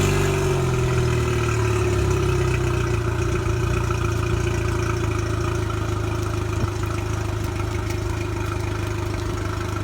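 A four-cylinder pontoon boat outboard engine, freshly fitted with new spark plugs, runs at a steady, loud idle with a constant low drone and a faint mechanical rattle throughout.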